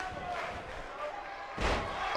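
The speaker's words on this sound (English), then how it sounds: "Slamming Chloe on the back of her head." A wrestler is slammed onto the ring mat during a women's wrestling match, a sudden loud broadband thud near the end that rises over steady crowd noise and commentary.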